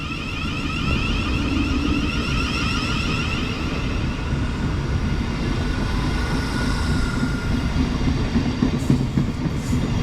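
A train rumbles past steadily and close by on a West Sussex line, with a continuous low roar and faint high metallic whine throughout, no voices.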